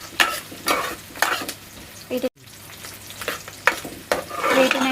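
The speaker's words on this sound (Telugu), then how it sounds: "లైట్ బ్రౌన్ కలర్ వచ్చే వరకు మంచిగా ఫ్రై చేసుకుంటున్నాను" Fish for a curry fries in a pan, browning lightly, with loud bursts of sizzling and stirring scrapes recurring roughly every second and a brief silent gap midway.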